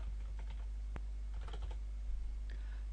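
Typing on a computer keyboard while a test credit card number is entered into a payment form, with scattered quiet key clicks over a steady low hum and no talk.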